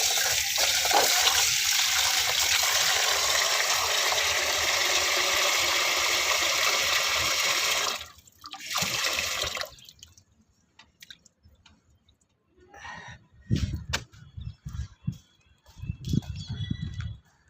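Water runs steadily from a pipe with a continuous rushing hiss for about eight seconds. Then it cuts off, leaving a few scattered faint knocks and sounds.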